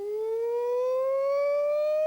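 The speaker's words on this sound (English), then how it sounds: "That sounds like a fire engine." A single siren tone rises smoothly and steadily in pitch, growing slightly louder, heard alone and close.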